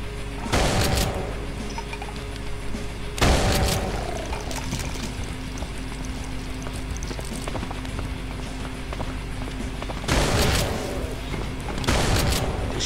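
Bursts of rapid gunfire from a weapon in the Brutal Doom video game, played on FreeDoom through GZDoom in the Derelict Temple level: several loud, dense volleys separated by quieter stretches of game ambience.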